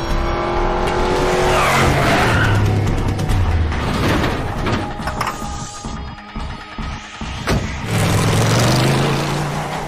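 A car in a film chase skids and squeals its tires while turning around, with loud engine revving and tire screech that fades mid-clip and then returns.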